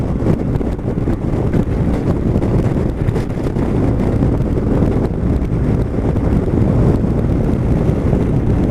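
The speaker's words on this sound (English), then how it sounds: "This last hour and a half we've been absolutely battered by this wind." Strong wind batters the microphone in a loud, steady roar that never lets up, with heavy low-end buffeting and no voices.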